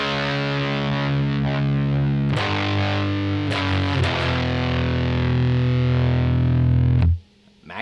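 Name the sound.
FUZZimp Obtainium Overdrive pedal fuzz at three-quarter gain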